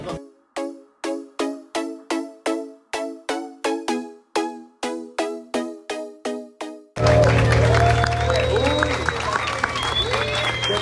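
Audience applause from a crowd at a celebration gathering in Cancún: a rhythmic series of about fifteen loud, evenly spaced clap bursts for roughly seven seconds, then shifting into dense, continuous hubbub and cheering of a large group.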